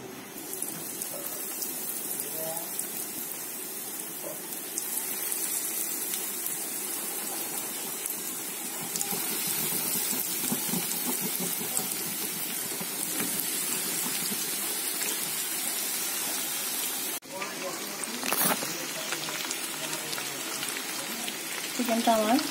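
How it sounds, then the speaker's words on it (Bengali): Boiled chicken pieces frying in hot oil, a steady dense sizzle and crackle that runs throughout, close and fairly loud with no talk. "আমার এখন তেল গরম হয়ে গেছে, চিকেনগুলো দিয়ে দিব এক একে।"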